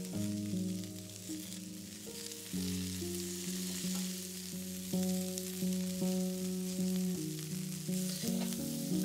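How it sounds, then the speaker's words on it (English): Cabbage and carrots fry in extra virgin olive oil with a sprinkle of salt while being stirred, a faint, steady sizzle beneath a gentle musical backing. "add your cabbage, a bit of extra virgin olive oil, a sprinkle of salt, and stir to coat"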